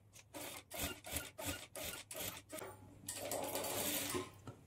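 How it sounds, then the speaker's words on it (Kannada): Domestic sewing machine stitching a high-neck blouse lining, running in several short rhythmic bursts with brief pauses, then a longer continuous run, close and fairly quiet. "ಇಲ್ಲಿ 1/4 ಇಂಚ್ ಮಾರ್ಜಿನ್ ಇಟ್ಕೊಂಡು ಸ್ಟಿಚ್ ಮಾಡಿಕೊಳ್ಬೇಕು"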